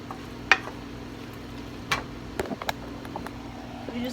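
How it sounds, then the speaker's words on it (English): Cream cheese being stirred into a corn mixture in a skillet, a few soft scrapes and clacks of a spoon over a low steady hum, close and fairly quiet. "mix in your cream cheese there"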